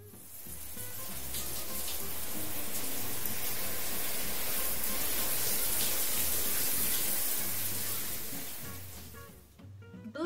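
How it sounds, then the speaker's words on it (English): Shower water runs in a steady, loud hissing spray for about nine seconds, then cuts off abruptly near the end. "Princess Purple Rabbit in the shower."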